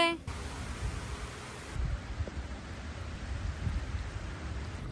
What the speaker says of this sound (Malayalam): മഴ പെയ്യാൻ തുടങ്ങി.